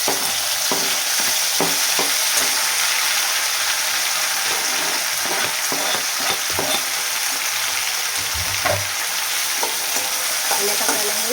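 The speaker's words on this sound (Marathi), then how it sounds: "आता लगेच टाकूया टोमॅटो" Tomatoes go into a pan of hot oil and garlic for a spicy Maharashtrian drumstick amti, setting off a steady close sizzle and frying crackle with scattered stirring knocks and scrapes against the pan.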